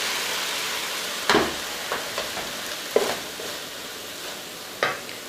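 Food sizzling in a hot pan, a constant hiss of frying broken by a few sharp stirring clatters.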